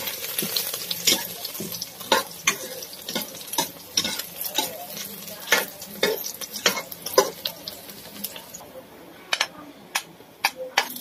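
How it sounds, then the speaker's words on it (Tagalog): Garlic and red onion sauté in a pan with a lively sizzle. Repeated sharp scrapes and clacks from a spatula keep a brisk, uneven stirring rhythm, close and fairly loud throughout. "So guys, igisa na natin siya. Ilagay natin yung ating garlic."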